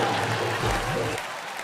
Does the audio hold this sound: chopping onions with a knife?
no